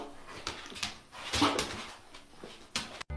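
A dog whimpers and whines in short, rising bursts with small yips between them, close and moderately loud, heard indoors during a vinyl flooring job.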